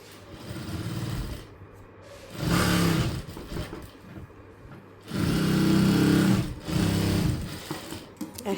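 Sewing machine stitching around the back piece of a blouse: close, loud whirring bursts of stitching that start and stop several times, with quieter pauses between runs.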